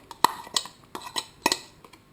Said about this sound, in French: on va mélanger dans un saladier l'agneau avec le boulgour, le chorizo